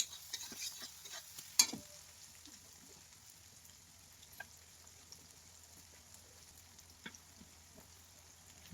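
Meat frying in a pan on a home stove, a faint steady sizzle with a sharp scrape or clink early on and occasional small pops and ticks.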